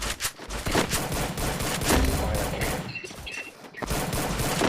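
Rapid gunfire from the mobile game Free Fire, with an AW sniper rifle in use during a ranked clash-squad match: dense overlapping bursts and shots fire continuously, loud and close, with brief gaps, and no voices.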